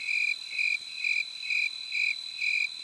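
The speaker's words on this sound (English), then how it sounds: "That's just it. Crickets." A cricket-chirping sound effect plays alone: six steady, evenly spaced high pulsing trills over a quiet background, clear and sustained.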